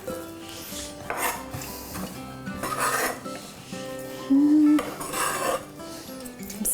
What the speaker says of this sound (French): je mets ça dans mon bol